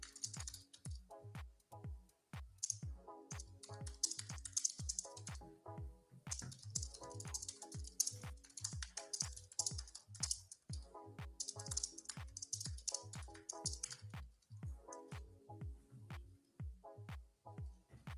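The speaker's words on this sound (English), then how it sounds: "It's like the first time I think I've ever heard KC's keyboard" Quiet computer keyboard being typed on steadily at a trading desk, a near, continuous patter of soft key clicks with brief pauses.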